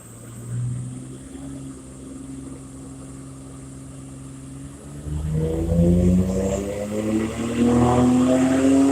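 A Nissan R32 GTR with a Haltech-tuned three-port wastegate solenoid idles low and rough, then revs hard, its engine note climbing and swelling louder over the final few seconds, with no voices.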